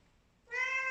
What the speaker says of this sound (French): mon chat il a envie de vous dire bonjour